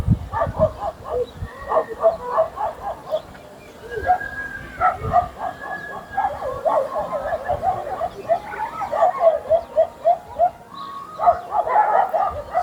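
Several dogs bark and yip repeatedly outdoors at sunset, a busy overlapping chorus of sharp barks at moderate distance, with birds faintly audible and a voice talking over parts of it.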